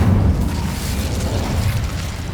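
The Incendio fire spell from Hogwarts Legacy produces a low, rumbling booming burst that fades into a sustained roar, alone without talk.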